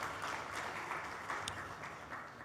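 Faint, steady applause from an audience at a gathering, a dense wash of distant hand claps running for a couple of seconds without a break.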